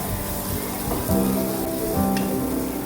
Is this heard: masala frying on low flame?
yes